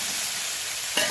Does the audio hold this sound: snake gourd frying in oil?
yes